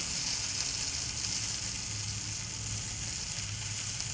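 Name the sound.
oil sizzling around a thalipith frying in the pan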